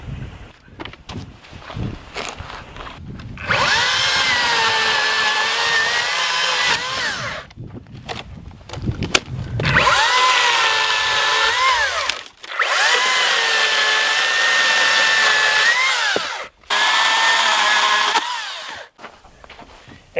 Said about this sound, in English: Got the Makita electric chainsaw, and batteries are good.